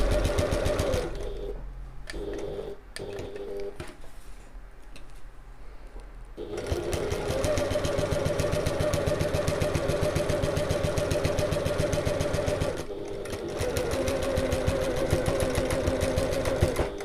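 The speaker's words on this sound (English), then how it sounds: "you can always lift your presser foot, pivot and sew back over it forwards" A sewing machine stitches back over a seam on a midi bag, starting with short stop-start bursts, then running as a steady, close mechanical whir with a brief pause near the end.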